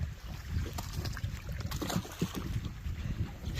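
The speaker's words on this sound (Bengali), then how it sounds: "এই যে আমরা ঘুরতেছি, আমাদের সুজন ভাই নৌকা চালাচ্ছে।" A rowing boat slides through a flooded marsh full of water lilies in Pabna during rain, with soft, steady water swishing and faint paddle strokes against gentle wind noise.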